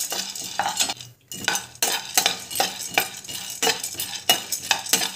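Laddu ingredients are dry-fried and stirred in a kadai, heard as rhythmic scraping strokes of a spoon against the metal pan with a faint sizzle underneath and no speech.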